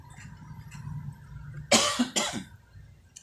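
A man coughs hard two or three times in quick bursts, loud and close, after a quiet stretch with faint background noise while he checks the motor winding of an electric fan.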